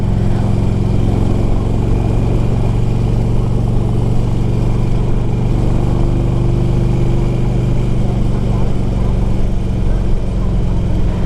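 A 2002 Harley-Davidson Electra Glide Ultra (FLHTCUI) out on the road at highway speed, engine droning with a steady low rumble and constant wind rush, loud and unbroken for the whole stretch.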